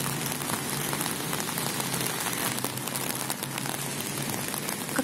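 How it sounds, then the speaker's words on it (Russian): Heavy rain pours down steadily outdoors near a bus stop in November, a dense, even hiss of drops hitting surfaces with no voices. "Такой хлещет дождячок."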